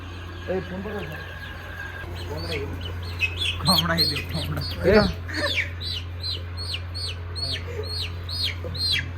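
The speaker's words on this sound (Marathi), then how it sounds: "हे कोंबडा आहे का?" A rooster and hens in a village yard give repeated clucks and calls alongside a rapid series of high chirps, with people talking nearby over a low steady hum.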